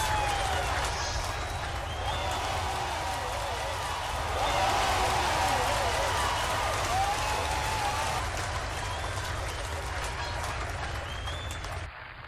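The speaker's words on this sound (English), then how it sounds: "Applause, applause." Steady, dense applause from an audience at an award and closing ceremony, continuous and even for about twelve seconds with a slight swell midway, fading at the very end.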